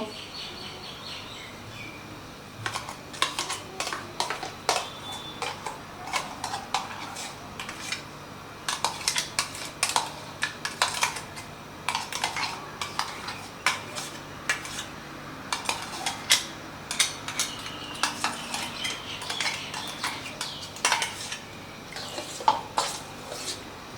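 Spoon clinking and scraping against a bowl while mango paste is stirred into cold water, a long run of irregular light metallic taps with birds faintly chirping in the background.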